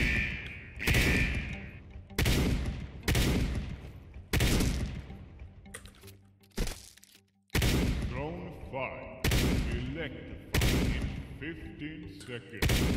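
Gunfire in a CS:GO battle royale mode: sharp, loud bursts of automatic shots fired in repeated clusters roughly every second, with brief quiet gaps and a player's voice between volleys.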